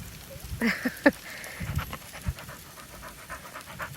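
A dog panting during a walk outdoors, quick breathy puffs up close, with a few brief sharper sounds early on and faint footsteps and ambient noise beneath.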